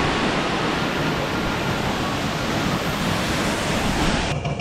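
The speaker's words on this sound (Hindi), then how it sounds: "देख सकते हो ये वाटरफॉल हो रहा है" A roadside waterfall on the mountain route to Kedarnath gives off a loud, unbroken rush of falling water, a dense steady roar that fills the whole stretch with no voices over it.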